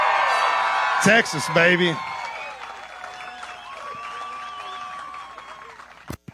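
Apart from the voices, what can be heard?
stadium crowd cheering and applauding at bass fishing weigh-in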